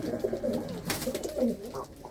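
Punnu breed pigeons coo in a loft, low and murmuring, with a continuous soft burble near the birds and a brief rustle in the middle.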